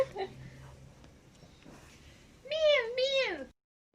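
A black cat lets out two drawn-out meows near the end, close and clear, after a stretch of quiet rustling with faint voices.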